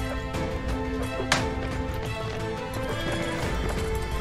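Cavalry horses gallop and neigh in a Mount & Blade: Warband battle, dense overlapping hoofbeats with a whinny rising above a busy, loud mix of combat noise.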